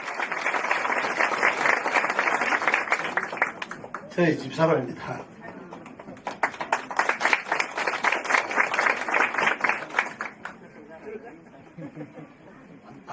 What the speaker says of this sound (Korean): 여러분 다시 한번 큰 박수 주세요